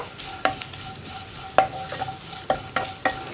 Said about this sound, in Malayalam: ഇത് രണ്ടും ചേർത്ത് ഒന്നിളക്കി ആ ജീരകത്തിൻ്റെയും മഞ്ഞൾപ്പൊടിയുടെയും റോ ടേസ്റ്റ് മാറി വരുന്നത് വരെ ഇളക്കി കൊടുക്കുക